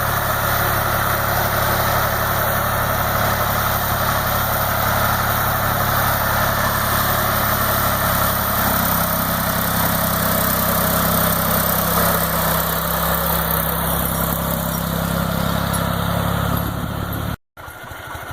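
A refurbished tractor engine with a homemade chemical mower attached, running loud and steady with a constant deep drone and some pitch change midway, cutting out abruptly near the end.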